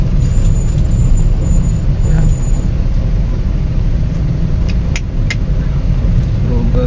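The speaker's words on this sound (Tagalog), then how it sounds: "Grabing ka-traffic." Heavy road traffic in Bulacan heard from inside a vehicle: a steady loud engine and road rumble with passing cars, buses and trucks, with a couple of brief air-brake hisses near the end.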